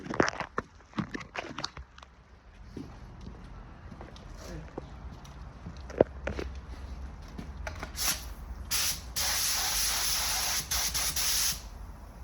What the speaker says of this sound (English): What I like to do when I put my clear on, spray it around, low pressure